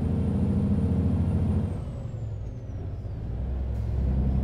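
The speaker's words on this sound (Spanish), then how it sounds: "Frena bien el camión." Air brakes on a Ford F-Max truck in a driving video game: a sustained engine rumble with a thin high whine gliding downward as the truck slows, then the drone picking back up, with no talk.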